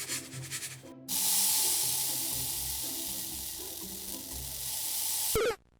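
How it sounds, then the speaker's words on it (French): Caustic soda poured into water for an exothermic reaction, giving a loud, steady hiss and sizzle that runs for about four seconds and then stops abruptly. "si vous allez verser votre soude caustique dans votre eau, c'est que ça fait une réaction exothermique"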